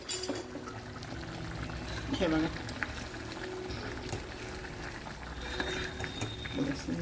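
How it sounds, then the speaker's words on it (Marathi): Colocasia-leaf and val-bean curry bubbling and simmering in a pot, a soft continuous gurgle with a brief voice speaking over it near the start. "हे बघा, चांगली उकळलेली आहे"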